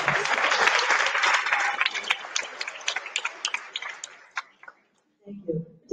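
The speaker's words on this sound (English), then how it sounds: "Let's give Dr. Lori Desautels a second round of applause." An audience at a kickoff breakfast event applauds steadily, the clapping thinning into scattered claps before fading out, followed by brief speech.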